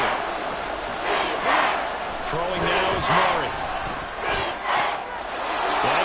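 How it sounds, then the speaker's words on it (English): Stadium crowd in the Madden football game, Cardinals against Saints in a domed stadium, producing a loud, steady roar that swells in places beneath a commentator talking over the play. "The crowd here in the dome making things difficult."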